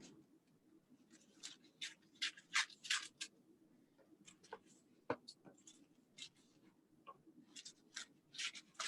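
Scissors trimming a paper napkin for a Mod Podge journal craft: a close, quiet series of crisp snips and rustling paper scrapes in irregular bursts.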